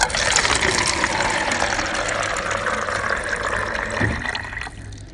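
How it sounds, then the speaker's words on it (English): A water dispenser runs with a steady rushing, gushing flow of liquid, fairly close, tapering off near the end. "This is a noise which I recorded myself, a water dispenser"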